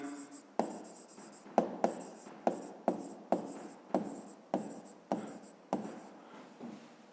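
Pen writing by hand on paper, a series of short scratchy strokes in quick bursts, close and quiet, with no talk over it.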